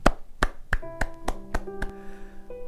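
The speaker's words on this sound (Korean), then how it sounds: "하나님께 영광의 박수를 올려드립니다" Sharp claps from a church congregation honoring God at the close of a Korean sermon on Psalm 150, about eight evenly spaced and crisp, with sustained keyboard-like tones rising underneath partway through.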